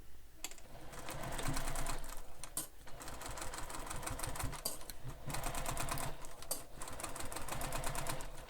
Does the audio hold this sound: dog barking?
no